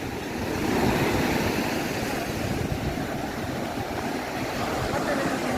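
Sea waves wash along a beach in a steady, broad rushing wash that holds at an even level without pause, filling the whole span with no clear voices.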